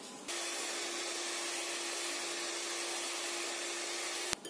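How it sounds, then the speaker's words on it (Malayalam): An electric hand beater whips egg whites with milk for a white forest cake, giving a steady, continuous motor whir that starts abruptly and cuts off just as suddenly a few seconds later, with no talking. "ഞാൻ ഈ പാല് ചേർത്തൊരു 30 സെക്കൻഡ് ഒന്ന് ബീറ്റ് ചെയ്തതേ ഉള്ളൂ"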